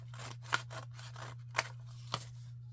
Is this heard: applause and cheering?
no